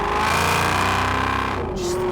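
A Mercedes E55 AMG W211 engine accelerates with a deep, steady roar, loud and close, its pitch shifting slightly as it pulls.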